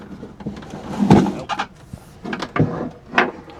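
A bottom drawer in a Sprinter camper van kitchen counter slides open, several close scraping and knocking strokes with short pauses, loud and without talk.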